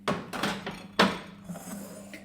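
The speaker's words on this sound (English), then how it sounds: "I can get rid of my chopping board." A chopping board is cleared away in a home kitchen during challah baking, giving a few sharp knocks and clattering bumps up close, then quieter handling noises.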